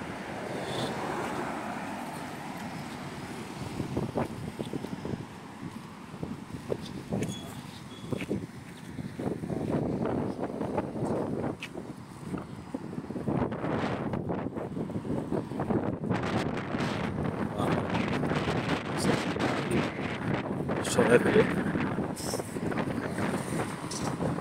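Gusty wind blows across an outdoor microphone on a December street in London, a steady rumbling roar that swells and buffets continuously for the whole stretch, with faint background sounds beneath it.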